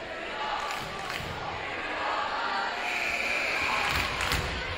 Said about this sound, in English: Crowd's going to get nice and loud here.